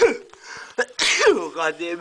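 A single loud, sharp sneeze from a person with an allergy, close up inside a tunnel, surrounded by brief speech just before and after.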